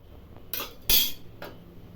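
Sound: pressure cooker lid being closed

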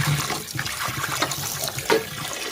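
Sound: water running while washing koi fish

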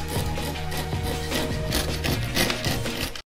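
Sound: carpet knife cutting grip tape along scooter deck

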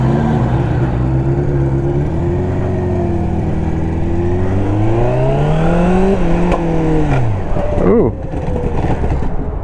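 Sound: motorcycle engine revving

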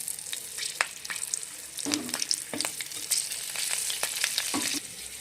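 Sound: green chillies sizzling in hot oil as tempering

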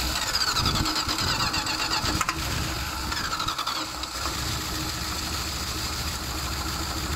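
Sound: car engine cranking and trying to start

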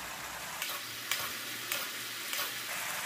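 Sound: spooning braising sauce over short rib patties in pan

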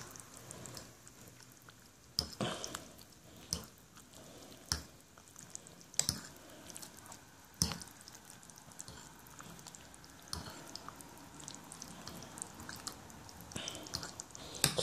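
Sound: stirring lamb casserole with tomato and noodles

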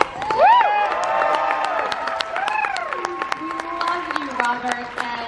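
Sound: audience applause for Robert Englund at a panel

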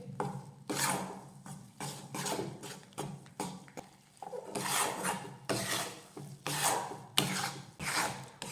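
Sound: wheat flour dough being roasted and stirred in a pan on low flame

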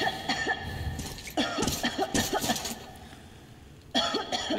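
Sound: character coughing in Metro Exodus video game

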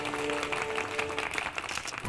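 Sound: applause

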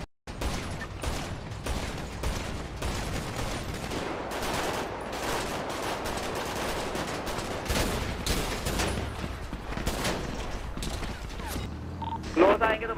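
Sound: gunfire in a GTA roleplay video game

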